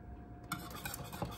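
A spoon stirs egg semolina in a pot on the stove, giving soft, faint scraping and light clinks against the pot with no talking.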